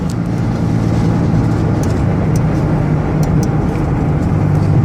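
A 2003 Dodge Caravan mobility van with 136k miles cruising at highway speed around 65 mph, a loud, steady interior drone of engine and road noise with a few faint clicks.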